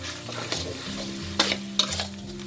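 Thai curry paste stir-fried in a pan after a splash of water is added, giving a steady low sizzle with scraping stir strokes and a few sharper utensil clinks near the end, with no one speaking.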